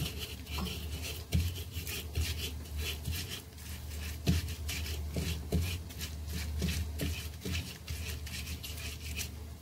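Cooked cassava being mashed with palm sugar makes rhythmic scraping and rubbing strokes, close and fairly quiet, with a few soft knocks between the passes.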